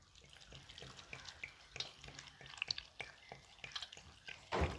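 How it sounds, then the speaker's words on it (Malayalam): Water goes into a cooking pot holding a jackfruit seed and mango curry, heard as quiet, rhythmic splashing and trickling with a louder gush at the end. "വെള്ളം ഒഴിക്കണം."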